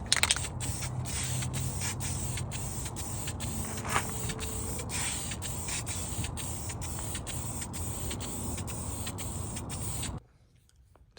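A paint spray gun hisses continuously while laying the final wrinkle-black coat on a car valve cover, with rapid faint clicking pulses underneath, then cuts off abruptly near the end.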